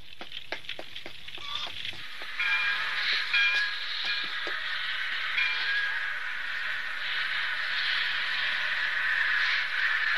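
A train rumbles steadily with a high, sustained metallic whine or squeal over it, fairly loud and continuous, with some clanking early on.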